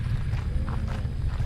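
Hooves clopping steadily on ground during a 2021 family cattle drive, a dense close rumble of many animals moving together with no talk.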